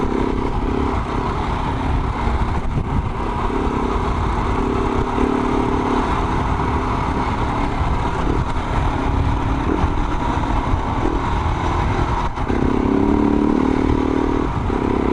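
A Husqvarna 701 or KTM 790 adventure motorcycle rides across sandy Simpson Desert track, its engine droning steadily and loud close up for the whole stretch, with rattling and scraping over the rough surface and no talk.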